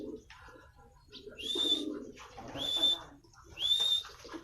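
Pigeons in a racing loft give repeated soft cooing calls, three swelling coos close by, with low shuffling and handling noise beneath.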